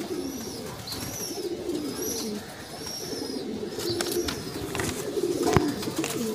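Madrasi pigeons coo in soft, repeated calls at an outdoor loft, with higher chirping birds and a steady murmur of ambient noise throughout.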